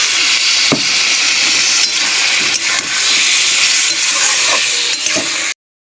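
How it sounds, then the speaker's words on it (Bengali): Loud, steady hiss and sizzle of spice paste in a hot pan as water is added, with several sharp clicks and stirring scrapes spread throughout, ending abruptly. "জল দিয়ে দেবো, দিয়ে মশলাটা কষিয়ে নেবো"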